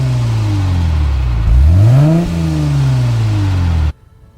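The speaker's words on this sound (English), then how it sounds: "as glorious and mechanical as this V6, especially when I got into the higher rev range" An Alfa Romeo V6 in a thirty-year-old car roars close by as it revs, the pitch climbing and dropping through a sweeping throttle blip before holding steady, then cutting off abruptly near the end.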